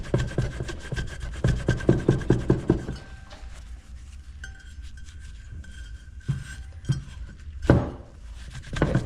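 An ATV wheel rim, its tire just cut off, is scrubbed clean on both sides, making rhythmic close rubbing and rasping strokes in bursts, with a quieter pause between them.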